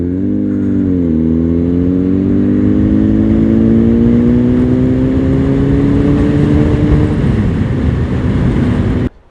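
A Honda Fireblade Repsol CBR 1000 RR sportbike rides steadily at close range, its loud engine droning with a rising pitch, then the sound abruptly cuts off near the end as the bike pulls over.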